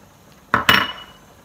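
Curry powder, ground coriander and garam masala stirred into a pan, heard as two quick close metallic scrapes and clinks of a spoon against the pan, with quiet around them and no talking.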